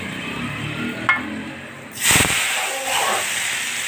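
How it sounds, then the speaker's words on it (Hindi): Curry leaves, mustard seeds and cumin sizzle as they hit hot oil for a tempering over Bihari-style black chickpeas, a sudden loud hiss that bursts in midway and keeps crackling steadily. "चलिए इसको थोड़ा सा मैं कड़कड़ा के इसको बघार लगा दूंगी"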